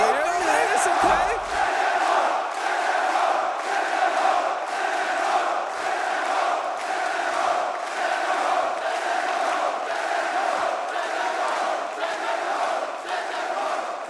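Esports arena crowd at a CS Manchester Major quarterfinal between FURIA and Team Liquid, a dense, sustained roar of cheering and shouting that swells in rhythmic waves, loud and continuous for the whole stretch.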